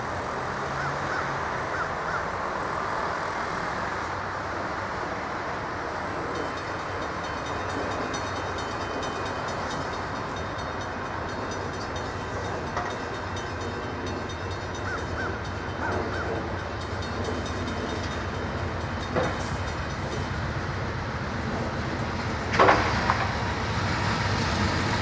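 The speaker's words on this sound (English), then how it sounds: "Norfolk Southern train" A Norfolk Southern freight train passes in a long, steady rumble and rattle of wagons near Atlanta, Georgia, continuous throughout with crows cawing faintly in the background.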